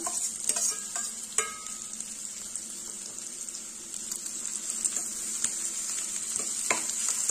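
Tomatoes, carrots and peas being sautéed for bajra upma, with a continuous soft sizzle and several sharp spoon clinks and scrapes against the pan scattered across the stretch.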